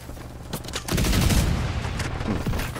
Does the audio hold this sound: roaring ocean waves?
no